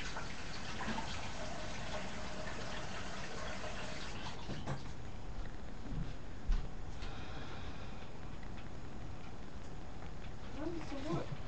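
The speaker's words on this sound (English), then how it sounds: "Let me just go and wash my face first." Tap water runs steadily from a faucet at a bathroom sink during face washing, a constant close rush of flowing water with occasional splashes and clinks.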